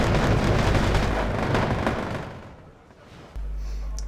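Sustained rifle fire from stationary Vandoos infantry in a strategy game, a dense, loud rolling crackle of gunshots and low booms that eases off, then a heavy low rumble resumes.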